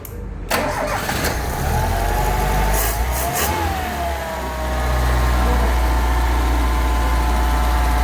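A Tofaş Şahin car engine cranks with the starter, catches and settles into a loud, steady idle, the hum rising slightly and holding close and constant through the rest of the stretch.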